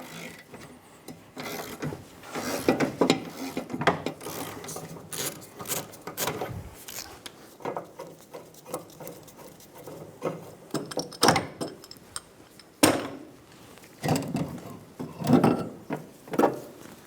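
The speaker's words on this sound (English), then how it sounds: "Install the trailing arm bushing." A bushing installer tool presses a trailing arm bushing into a 2000-2007 Ford Focus: intermittent close mechanical creaks, clicks and ratcheting knocks spread irregularly over a quiet garage background.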